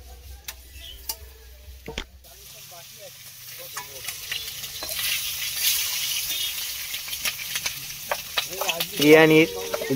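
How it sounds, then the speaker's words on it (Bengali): Potatoes sauté in a pan for chicken biryani: a spatula clicks and scrapes sharply at first, then a soft sizzle builds beneath irregular stirring, with a louder burst of frying near the end. "আলু কষা হচ্ছে"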